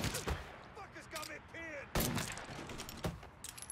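Gunfire in the Mafia III video game, with several sharp shots spread across a few seconds under excited talking and game voices.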